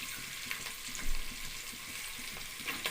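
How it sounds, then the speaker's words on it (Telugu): Biryani masala frying in a little oil, a steady soft sizzle with a few faint scrapes from stirring, fairly quiet and close, no talking. "బిర్యానీ మసాలా కొంచెం వేగిన తర్వాత"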